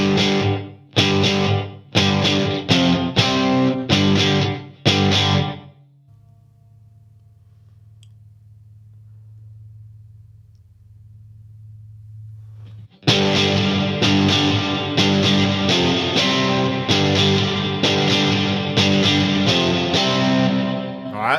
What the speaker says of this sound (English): let's listen to the effect of the reverb either going into the front end of the amp